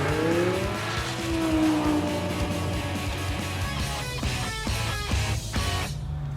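A Lamborghini race car on a half-mile test run roars loudly as its engine pitch rises and falls through gear changes, with rapid shift cuts toward the end and no talk over it.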